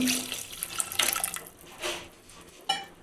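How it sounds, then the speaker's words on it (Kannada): Water being poured into a pan of mushroom sambar after the masala has been fried, heard as an uneven, splashing pour with several surges and dips, fairly close and not masked by any voices. "ಇವಾಗ ಜಾಸ್ತಿ ಒಳಗೆ ಸ್ವಲ್ಪ ನೀರಿದೆ ಹಾಕಿ ಹಾಕ್ತಾಯಿದ್ದೀನಿ"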